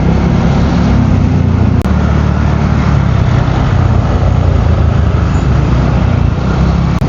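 Heavy Friday road traffic heard from a motorcycle heading to SM Santo Tomas: a loud, constant roar of engines and wind rushing past, dense and unbroken throughout.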